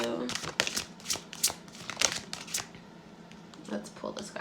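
Tarot cards are shuffled and drawn from a deck, giving soft papery riffles and flicks in quick bursts, close and quiet, with a person talking over them.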